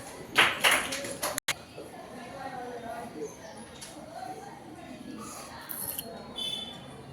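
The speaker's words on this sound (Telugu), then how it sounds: "excellent clap" Children clap in a short, lively burst near the start of a Vedic maths lesson, then a teacher's voice carries on over a quiet background.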